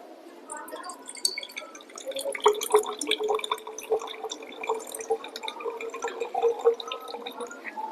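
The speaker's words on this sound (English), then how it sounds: "Now, pour this clear liquid into the another container." Clear water poured off the top of settled muddy water into another container trickles and splashes steadily, with small bright drips and gurgles heard up close for several seconds.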